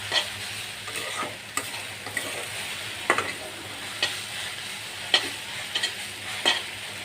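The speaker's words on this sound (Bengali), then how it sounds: "সাথে 2টা শুকনো মরিচ ভাজছি" Greens fry in a pan with two dried red chilies. A steady, close sizzle runs throughout, and a spatula stirs and scrapes about once a second.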